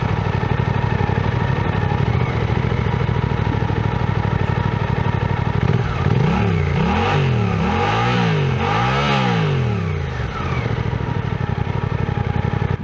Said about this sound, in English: the 270-degree crank twin-cylinder engine that I've always loved because of how guttural they sound